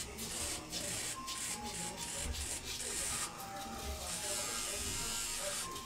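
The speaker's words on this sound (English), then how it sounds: "I can usually shave pretty fast with my ProGlide Power." A Gillette Fusion ProGlide Power razor buzzes and rasps against facial stubble in quick, repeated strokes, a faint close hum with soft rubbing under light talk.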